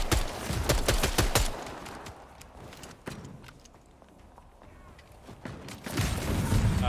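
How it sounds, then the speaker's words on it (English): Bursts of gunfire in the vampire battle royale video game Bloodhunt, sharp repeated shots in clusters with a quieter stretch between, mixed with footsteps and mechanical clatter. "Oh, they are shooting at you."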